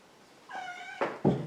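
A pet cat named Orion meows with a sustained, clear tonal cry, followed by two short, louder rough bursts close to the listener in a quiet room.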